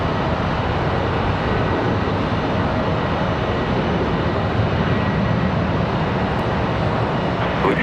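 Jet airliner taking off from Charlotte Douglas airport, a loud steady broadband roar of engines under full power that holds constant throughout with no pause.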